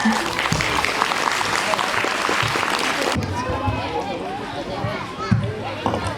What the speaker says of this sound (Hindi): please audience make some noise and cheer our students